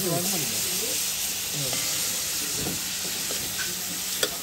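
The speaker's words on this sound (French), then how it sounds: "Et là, tout de suite, un petit peu de tomate dedans." A fish curry pot sizzles steadily as tomato goes in, a continuous close frying hiss with faint stirring clatter and a sharp knock near the end; a voice talks intermittently over the cooking.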